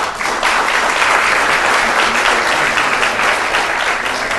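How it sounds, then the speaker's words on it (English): Steady, dense applause from an audience at a city council meeting, a continuous wash of many hands clapping at even loudness with no talking over it. "that deserves a round of applause"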